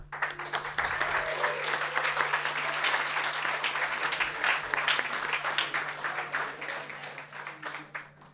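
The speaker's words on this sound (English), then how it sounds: "Please give a huge round of applause for Jonathan Hepfer." Sustained applause from a concert audience, a dense wash of many hands clapping that holds steady and then begins to fade toward the end.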